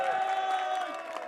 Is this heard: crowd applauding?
yes